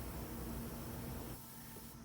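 A Fuji MiniMite 5 spray gun sprays color shift paint onto 1966 Impala parts, giving a faint, steady airy hiss that eases off and quietens partway through.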